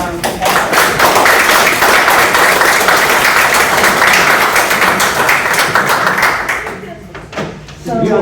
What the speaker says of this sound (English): So I think we should all give them a round of applause